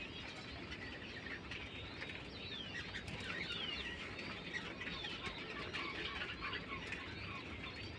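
Budgerigars in a small newly built cage in a budgie farm aviary, many birds chirping and twittering continuously at once, faint and busy, with occasional rustling.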